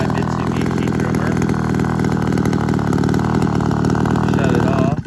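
A Kawasaki TF22 Bannerman line trimmer engine running close by, a loud continuous buzzing two-stroke drone that holds steady at high throttle and then cuts off at the end.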